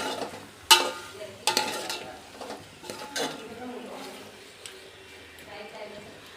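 Chicken curry being mixed in a pan: sharp spoon clanks and scraping strokes over a light sizzle, fading into quieter stirring, with a voice talking at times.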